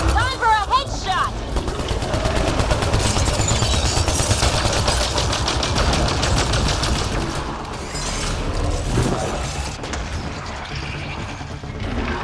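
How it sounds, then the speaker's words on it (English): Gunfire in the PC video game Mass Effect: Andromeda, heavy sustained rapid shooting with booming impacts over twelve seconds, a voice briefly audible at the start. "Time for a headshot!"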